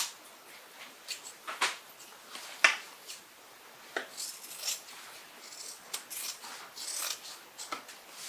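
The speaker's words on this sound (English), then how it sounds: "Go ahead and cut the seam allowance back." Scissors snipping back the fabric seam allowance on a tote bag, a series of close, crisp, irregular cuts with small rustles of cloth between them, fairly quiet and with no talk.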